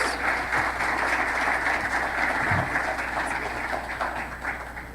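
Audience applause at a tech conference keynote, a continuous even rush of clapping heard from a moderate distance over a low hum, steady for about five seconds and easing slightly at the end.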